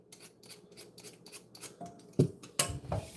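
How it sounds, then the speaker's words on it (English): A potato being peeled by hand, a run of short rhythmic scraping strokes close up, followed by a couple of louder knocks and rustles near the end. "I'm in the middle of peeling a potato"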